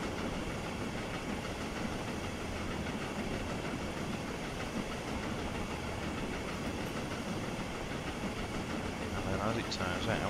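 Caledonia Works Raven A2 locomotive in Train Simulator 2019, a steady, loud engine drone with rail rumble running continuously throughout, a faint chirping near the end.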